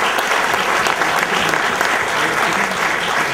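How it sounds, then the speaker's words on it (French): Steady, full applause fills the room at the 2011 Tremplins awards ceremony, many hands clapping together at an even, loud level throughout. "on peut vous applaudir"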